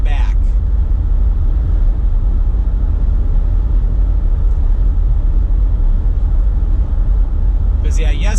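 A car cruising north on interstate I-69, heard from inside as a steady, loud low road rumble and tire drone that continues without a break, with a couple of brief faint clicks at the edges.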